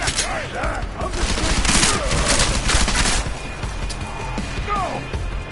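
Rapid gunfire in Deus Ex: Mankind Divided: loud, dense bursts of automatic shots mixed with impacts and crashes, continuous throughout, with voices shouting underneath.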